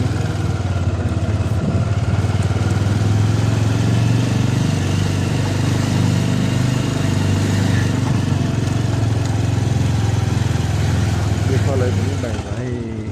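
A motorcycle engine runs with a continuous, close mid-pitched drone on a hillside road, holding steady throughout while people talk over it.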